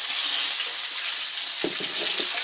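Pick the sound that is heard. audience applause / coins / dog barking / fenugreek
fenugreek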